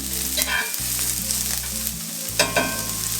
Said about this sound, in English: because I want to cook these onions down a little bit before I add my mushrooms